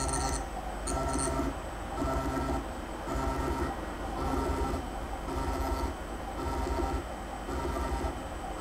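An Ortur Laser Master 2 Pro laser engraver runs an X-axis backlash and accuracy test, its stepper motors whirring in a steady rhythm of repeated back-and-forth moves of about one second each, with brief pauses between strokes.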